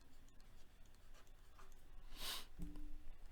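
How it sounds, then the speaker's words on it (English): A marker squeaks across a whiteboard in one short, bright stroke, with soft scratching before it, close by against a quiet room. "I'll go ahead and write that on our whiteboard here."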